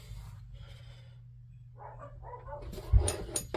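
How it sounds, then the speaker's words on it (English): Dogs bark outdoors at a distance, a few faint yips and barks over a low steady hum, rising slightly toward the end. "Those stupid dogs are barking."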